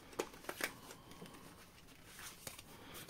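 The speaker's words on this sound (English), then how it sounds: "last shuffle" Tarot cards being shuffled at close range, a few crisp riffling bursts in the first second followed by softer scattered card rustles.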